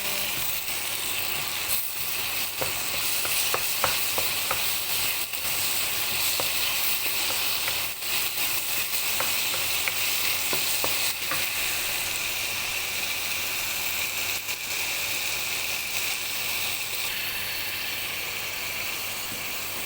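Chicken stir-fry sizzling hard in a wok as chili goes in, a loud continuous close hiss with scattered clicks and scrapes of stirring, no talking.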